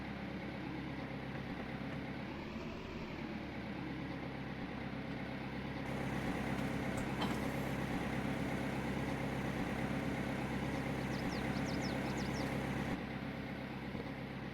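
A tractor engine idles in Farming Simulator 22, a steady low mechanical hum that runs without a break and grows slightly louder and fuller partway through, with no talking over it.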